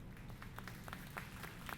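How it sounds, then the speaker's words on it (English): Faint, sparse applause from bar patrons in the visual novel Snoot Game, scattered individual claps over a low murmuring background, quiet and distant. "I began to clap,"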